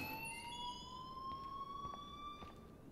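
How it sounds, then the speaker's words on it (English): An alarm wails in the Life Is Strange video game, a steady rising electronic siren tone sustained throughout over a dense background hum, no talking. "please turn off that alarm"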